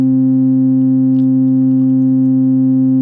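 A steady, unchanging low bass tone from a Studiologic Sledge synthesizer hums loudly and continuously, with no other sounds.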